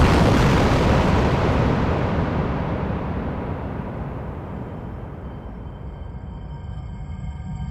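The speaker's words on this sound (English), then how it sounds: "In the huge explosion" A huge bomb blast tears into army trucks on a sunny August bank holiday, opening as a loud, broad roar that slowly decays into a long rumbling tail with no voices.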